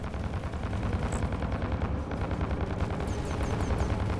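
Spaceship weapons fire in the space combat game Fractured Space, a dense, rapid, loud barrage of booming shots with deep rumble throughout and a few electronic chirps.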